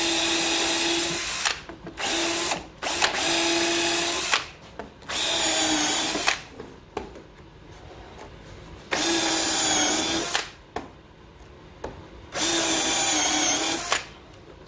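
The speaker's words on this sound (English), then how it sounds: "Basically, I want to drill a hole through these pieces of plastic." A power drill bores holes through pieces of plastic barrel. It runs in repeated loud bursts, about seven in all, with short pauses between them.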